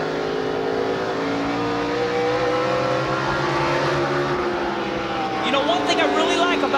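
The number 11 Toyota truck races at Indianapolis in a 2004 NASCAR Craftsman Truck Series event, heard from the in-car camera. Its engine roars steadily under the throttle with shifting pitch, and commentators talk over it.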